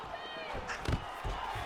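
Arena crowd at a mixed martial arts bout between McGuinness and Gaethje rumbling and surging in brief bursts of reaction as fighters exchange strikes, a loud swell near the middle and another toward the end over steady background noise.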